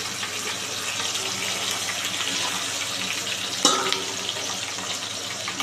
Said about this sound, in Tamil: அப்படியே அதை கிண்டிக்கிட்டே இருங்க.